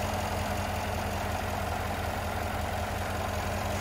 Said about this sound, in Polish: Posłuchajcie, jak ten silnik pracuje.